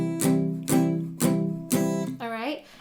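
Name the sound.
palm-muted guitar strumming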